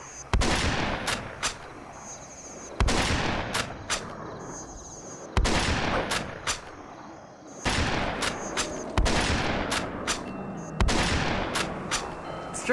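Gunfire from a sci-fi styled gun in the video game Conker, sounding as repeated sharp, loud shot bursts, about five clustered volleys each followed by a decaying tail, with no talking.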